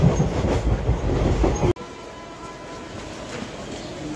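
A passenger train on the line near Khagraghat Road and Barharwa runs with a loud, steady rumble and rattle inside the carriage, then drops abruptly to a quieter, even hum.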